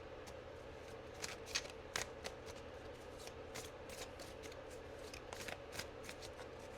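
Tarot cards shuffled by hand during a reading, a quiet close-up run of soft riffling flicks and taps in irregular bursts over a faint steady background hum, with no talk.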